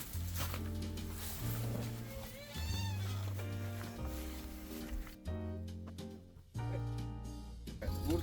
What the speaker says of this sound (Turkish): Yangından kurtardığımız kedi.